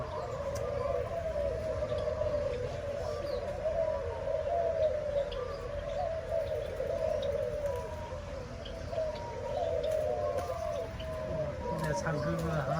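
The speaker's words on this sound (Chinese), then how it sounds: "各种声音，鸟叫的声音" Birds in an Australian bird park aviary, soft repeated cooing like pigeons or doves over a steady hum of other calls and chirps, moderately distant, with faint voices in the background.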